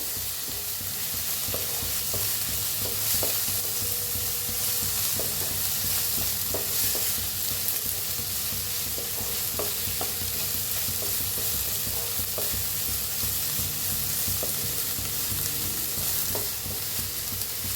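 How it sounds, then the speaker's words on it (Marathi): Onion and tomato fry in a pan, giving a loud, constant sizzle and hiss with faint scraping stirs scattered throughout, close and steady, with no voices. "टमाटोला भी छान असं भाजून घेऊया।"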